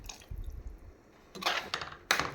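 Tamarind water is poured into simmering mochai kottai kuzhambu. After a faint low bubbling, two short splashy pours sound close by.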